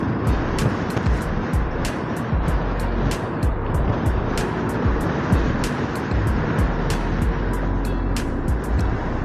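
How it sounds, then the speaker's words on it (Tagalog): A remapped Honda PCX motorcycle ridden at night, heard from a chest mount: a steady roar of wind and road noise over the engine drone, with sharp ticks recurring throughout. "Lakas ng motor natin ngayon guys."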